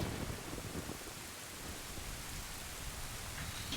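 Steady broadband rain hiss with a low rumble of thunder fills a rainy scene in the video game The Legend of Zelda: Ocarina of Time, continuous and fairly even throughout with no talking.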